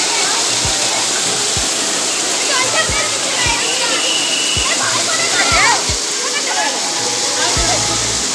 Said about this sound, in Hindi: देखो यहाँ पे पूरा झरना गिर रहा है, ठंडा हवा आ रहा है, पानी का बुलबुला भी आ रहा है